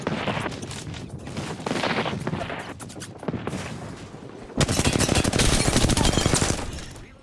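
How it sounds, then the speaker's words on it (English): Sustained bursts of automatic gunfire in the Apex Legends video game, dense and loud, with rapid volleys layered over one another and an especially intense, continuous stretch of fire in the latter half. "Opening fire. Shooting at me."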